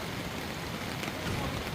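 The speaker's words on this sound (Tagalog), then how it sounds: "malakas o patuloy pa rin yung pag-ulan na nararanasan natin" Heavy rain from Typhoon Carina pours down steadily in a flooded Cainta Greenpark Village street, a dense, unbroken hiss filling the whole moment at constant loudness.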